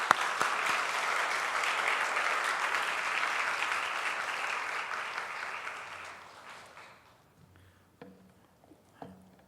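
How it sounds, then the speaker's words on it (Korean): Church audience at a sermon concert gives a sustained round of applause, dense and steady for about six seconds before thinning out into a few scattered claps and quiet room sounds. "오늘은 말씀 달라고 우리 감사한테 박수 한번 보내겠습니다."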